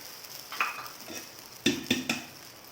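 A spoon spreads dosa batter on a hot pan, scraping and tapping a few times, soft and close, over a faint background hiss with no voices.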